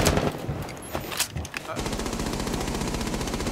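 Rapid automatic gunfire in Rainbow Six Siege, a sustained burst of fast repeating shots fired through a hole from a window, loud and continuous after a few scattered earlier shots.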